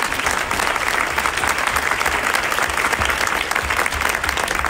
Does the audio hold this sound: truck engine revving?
no